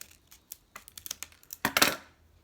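Close, crisp snips and scrapes of sharp scissors cutting through thick ribbon, a series of short sharp clicks ending in a louder rasping cut.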